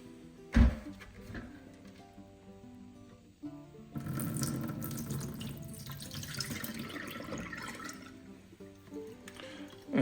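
Parts of a Tineco iFloor 5 Breeze cordless floor washer are rinsed under a running tap. A knock comes first, then water gushes steadily into a sink, moderately loud and close.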